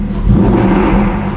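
Lamborghini Huracan STO engine revved to about 4000 RPM while parked, a loud, close, rising growl that rumbles deeply and then holds.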